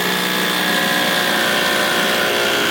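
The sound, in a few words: Milwaukee M18 Fuel rotary hammer drilling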